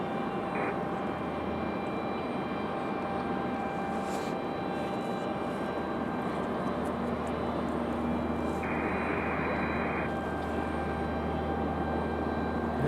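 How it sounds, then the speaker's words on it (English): A fixed-wing airliner departing a runway at Raleigh-Durham airport in freezing winter weather, a steady broad engine roar heard from a distance that holds without pause throughout, loud and constant, with faint extra tones briefly cutting in. "So two more departures, possibly only one if one gets stuck sitting down there at the end of the runway"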